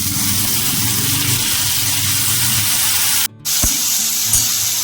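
Chopped tomatoes tipped into hot oil with ginger paste, giving a loud, steady broadband sizzle close by, broken by a brief cut and lower clanks of stirring, with no voice.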